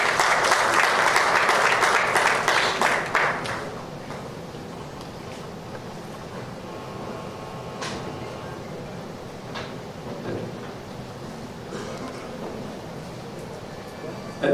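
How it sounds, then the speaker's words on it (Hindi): Audience applauding at a Bollywood celebrity app launch event, a loud burst of clapping for about four seconds that quickly fades into low room noise with faint background voices. "मंजरी जी के लिए एक बार तालियां हो जाए।"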